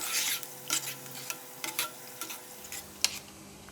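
Ginger deep-frying in oil in a pan for stir-fried fish gives a close, low hiss broken by intermittent sharp crackles and pops.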